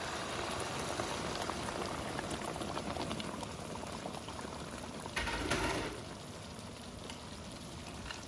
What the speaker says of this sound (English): then I will pour the rice on top of it